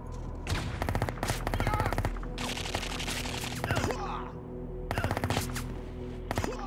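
Bursts of automatic gunfire from the shooter game Project IGI, on a hard mission to commandeer a cable car, come in rapid rattling volleys separated by short pauses, with a steady low background hum and no talk.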